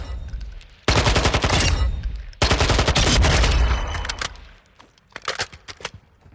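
Automatic fire from a Zenitco AK-74M rifle in Call of Duty Modern Warfare II rips out in two long, loud, rapid-fire bursts, followed by a few scattered shorter shots and clinking sounds.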